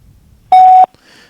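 Voicemail system recording tone: a single clean electronic beep lasting about a third of a second, loud and alone against a near-silent background, followed by faint noise.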